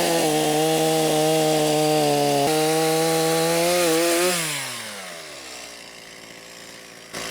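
A Stihl chainsaw roars loudly through firewood at a steady high pitch, then its engine winds down and idles quietly.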